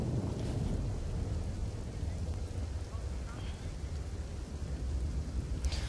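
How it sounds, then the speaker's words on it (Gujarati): Rain falling over Botad town with water running through the market, a continuous low rushing wash with wind-like rumble, steady and fairly distant. "તો બોટાદમાં વરસાદ છે, પાણી વહેતા થયા છે"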